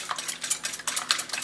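Three eggs beaten lightly by hand with a fork or whisk in a bowl for an orange cornmeal cake, a steady rapid clicking and scraping rhythm, close and continuous.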